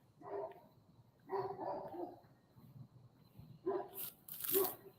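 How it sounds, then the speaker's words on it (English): A dog barks in a few separated bursts in a back alley in Memphis, moderately close, with quiet pauses between, some with a rough, gruff edge. "dogs are barking"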